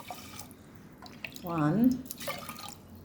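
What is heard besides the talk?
water being poured into a pot for khichdi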